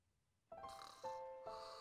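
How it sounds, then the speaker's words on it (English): Snoring in Final Fantasy X HD comes as short nasal, snorty rasps, three quick overlapping bursts in a row that start abruptly out of near silence and sound fairly close. "Snoring sound effect."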